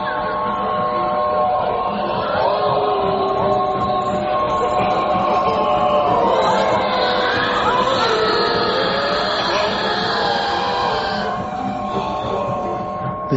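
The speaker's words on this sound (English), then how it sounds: "Listen to that train" Old steam train with black smoke passing by in a radio drama, a busy layered rumble with whistle-like tones and shifting pitches that swell and fade across the scene, with no talk.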